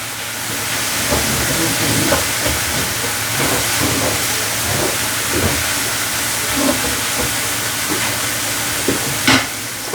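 Vegetables with fresh thyme sweat in a hot frying pan, a steady close sizzle and hiss with occasional stirring scrapes, no voice over it.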